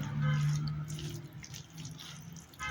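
Freshly boiled zucchini, still hot, drains in a kitchen colander, giving a steady close trickle of running water that fades slightly partway through, with no voices.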